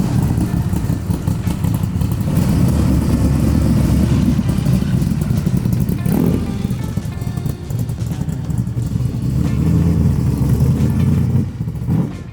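Superformance Cobra R with a 550 hp Roush 427 engine rumbles loudly and close for a sustained stretch, a deep throbbing idle and rev with clattering texture and no talk.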